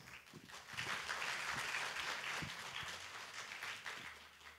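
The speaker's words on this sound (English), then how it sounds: "Please everyone give a big round of applause for our fellows." Faint, steady applause from a startup demo day audience welcoming the fellowship's startup fellows, a soft wash of many hands clapping that holds for several seconds at a distance.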